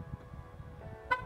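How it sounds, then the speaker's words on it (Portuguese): A Fiat Pulse Impetus, a 1.0 turbo SUV, gives one short, quiet horn chirp as its doors lock, near the end of a faint background. "tenho esse aviso da buzina"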